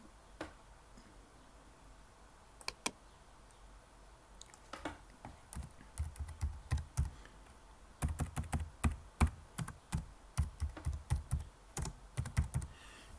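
Someone types on a computer keyboard in a quiet room, first with a few scattered keystrokes, then with denser, faster bursts of close, crisp clicks that come in irregular runs toward the end.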